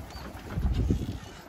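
Pigeons released from a loft break into a short, close burst of fluttering wingbeats with faint cooing, heard alone for a moment.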